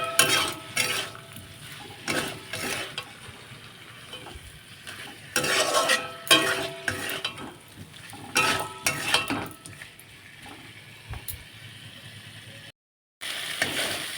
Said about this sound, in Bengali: একটু ভালোভাবে নাড়াচাড়া করে নেব।